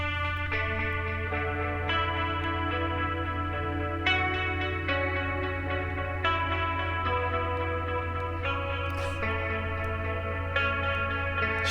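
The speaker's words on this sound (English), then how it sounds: "That's the Telecaster." A Telecaster electric guitar drenched in heavy echo plays sustained, chorus-like notes and chords in a studio session, loud and continuous with repeating delayed tails throughout and no talking.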